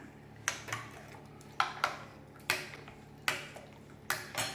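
A utensil knocks and scrapes against a bowl while pancake batter with milk is mixed, giving regular paired clinks roughly every second at close range, with no talk.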